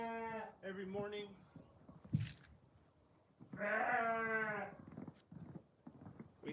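Sheep bleating at morning feeding time on a homestead as hay flakes are handed out, several loud, close, wavering calls in two bursts with short gaps and softer bleats between.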